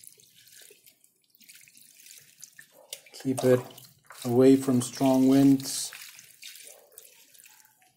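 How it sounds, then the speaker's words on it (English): Water pours and splashes over a cherry blossom bonsai in its pot, a soft running trickle that continues through the clip while someone talks over it, his voice louder midway. "So let's go ahead and water this and we'll call it a day"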